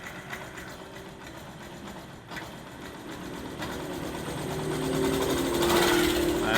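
A small engine idling steadily after an oil change to 20W50 synthetic oil, a fine rapid mechanical chatter that gradually grows louder toward the end, with no talking.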